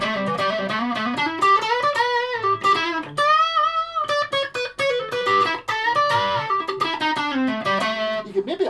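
An electric guitar on its neck pickup with distortion on, playing a run of sustained, bending melodic notes, loud and close, with no talking.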